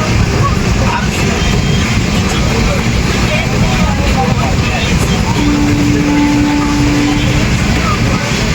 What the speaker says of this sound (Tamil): இந்த ட்ரெயின் மங்களூர் எக்ஸ்பிரஸ்.